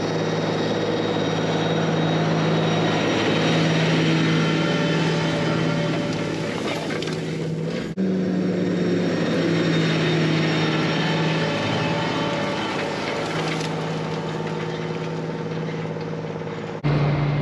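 A tractor drones steadily as it pulls a strip till implement through a field, a loud continuous engine hum with a constant low tone that runs on without talk for over fifteen seconds.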